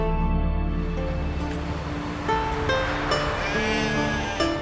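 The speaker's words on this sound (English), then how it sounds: "Hey sheep, come here." Sheep bleating in the video game The Witcher 3: Wild Hunt, several short tonal bleats at moderate loudness over a steady game background, with no talk.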